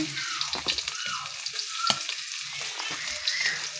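Garlic sizzles in rendered pork fat in a pan while cooking pakbet, a steady close crackling fry with light stirring scrapes.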